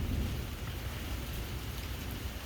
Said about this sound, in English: It's fucking pouring.